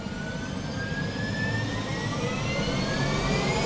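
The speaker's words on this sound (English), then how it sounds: "The helicopter actually makes an amazing riser sound when it's just starting up." Helicopter starting up on a frozen lake, a loud continuous turbine whine with tones slowly rising in pitch over a rumbling low roar, close and steady.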